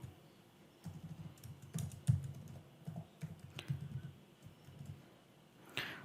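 A password is typed on a computer keyboard: soft, irregular clicks and taps in quick bursts, fairly quiet against a faint room hum.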